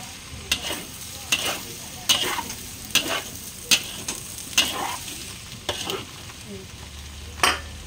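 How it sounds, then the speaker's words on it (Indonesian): Spatula scraping and stirring ingredients, including bok choy, as Chinese restaurant-style food fries in a pan, with about nine distinct stirring strokes over a steady low sizzle; no talking. "Kita aduk lagi sampai wangi."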